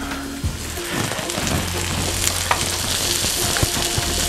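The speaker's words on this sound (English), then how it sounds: "And you're going to saute this down for about 4 to 5 minutes." Mushrooms sauté in a pan for beef stroganoff, giving a dense, continuous close sizzle with scattered crackles and pops and occasional stirring scrapes.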